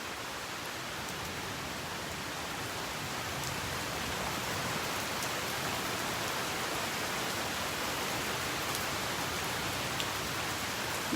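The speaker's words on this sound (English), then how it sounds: "I'm just waiting for the rain to stop." Steady rain falling at Delnor-Wiggins beach, a continuous even hiss of drops on surfaces that holds the same level throughout, with no voices.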